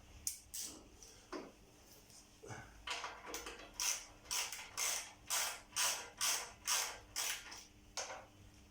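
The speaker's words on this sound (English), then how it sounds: "we'll just tighten the clip underneath. That's a 10mm bolt." A 10mm bolt on a motorcycle exhaust clip is tightened with a ratchet, making a steady series of close, creaking clicks that speed into a regular rhythm, with no talking.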